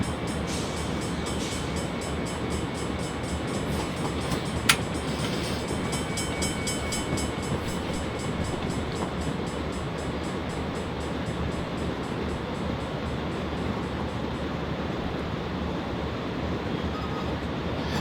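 A BNSF ES44DC diesel locomotive in Train Simulator 2018 rumbles steadily with a constant engine drone and rolling rail noise, plus a brief sharp click partway through, with no talking.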